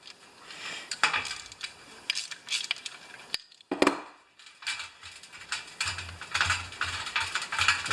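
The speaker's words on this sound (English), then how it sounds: "let's get a nice little ratchet. My favorite ratchet, it's an old Sears teardrop. Now let's get this carburetor apart." An old Sears teardrop ratchet wrench works on a carburetor being taken apart, making bursts of close clicking and metallic handling knocks with short pauses between them.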